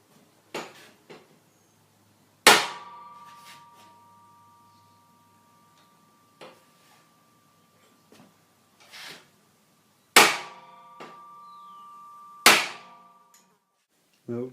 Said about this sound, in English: it's only got a small area there to hit it with a hammer